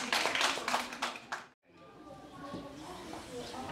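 Applause from an audience at a Balinese Hindu Dharma Gita chanting festival for team C, a dense burst of clapping that cuts off briefly, then gives way to a murmuring crowd and a voice.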